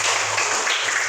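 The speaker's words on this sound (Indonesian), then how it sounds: "Tepuk tangan untuk Chelsea" Applause from a primary-school class for a pupil, a dense steady wash of many small hands clapping together, fairly loud and continuous with a faint hum underneath.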